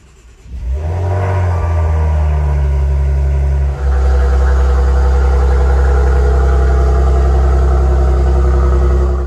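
A Maserati sports car engine starts up and settles into a steady, deep idle, rumbling loudly and close by with a slight rise midway.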